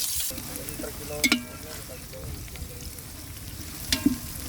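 Onions fry in a pan with a steady, close sizzle, broken twice by brief louder bursts of stirring or tossing, all without talk.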